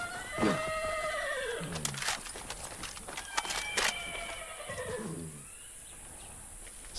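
Horse whinnies and neighs from the video game Far Cry 6, two drawn-out calls with galloping hoofbeats and scuffling in between, loud and near over a constant high game hum.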